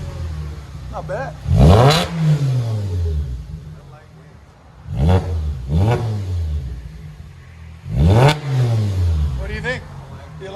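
A 2007 VW Jetta with muffler and resonator deleted, catalytic converter and first resonator kept, revs three times in loud, raspy bursts that rise and fall, with the engine idling nearby between them.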